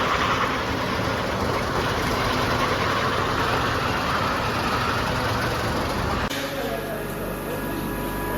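A Tatra truck at the Tatra museum in Kopřivnice idles with a steady, dense, close rumble that continues throughout, and the tone shifts slightly near the end, with a voice talking over it.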